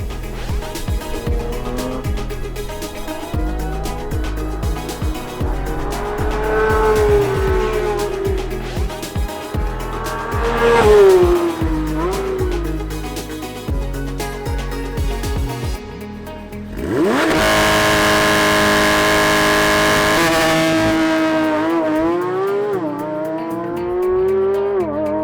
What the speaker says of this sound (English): Trying out launch control in the Porsche GT3 RS.